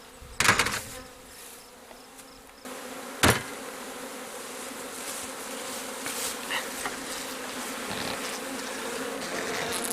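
Honeybees buzz around an open hive during frame transfers, a continuous close drone with a few sharp knocks from handling the equipment.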